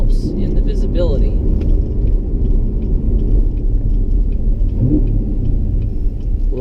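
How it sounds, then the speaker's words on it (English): A naturally aspirated 6.2-liter V8 in a 2016 Chevrolet Camaro SS rumbles low and steady as it rev-matches through downshifts, with brief blips of engine speed. It is heard alongside talking. "Love that rev matching downshifting."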